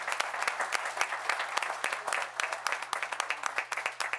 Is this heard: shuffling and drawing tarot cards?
no